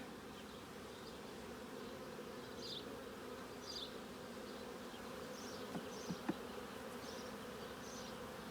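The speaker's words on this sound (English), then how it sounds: "this is the most we've ever had in activity around the hives as we did an inspection" Honey bees buzz steadily around hives during an inspection on a warm day, a dense continuous hum with individual bees droning past close by, without talking.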